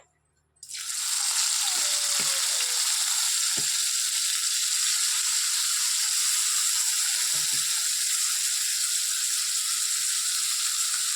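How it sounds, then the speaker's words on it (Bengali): Prawns dropped into hot oil in a wok, bursting into a loud, dense, continuous sizzle after a brief quiet start, staying steady and close for the rest of the clip with no voices. "কড়াইতে তেল দিয়েছি এরপর চিংড়ি মাছগুলো ভেজে নেব"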